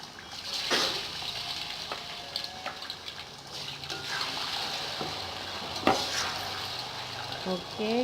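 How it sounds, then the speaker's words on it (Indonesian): Tofu fries in hot oil in a pan while being stirred, a steady sizzle broken by scraping stirs and occasional louder bubbling bursts, with some faint background noise. "Proses penggorengan juga agak lama karena harus benar-benar garing."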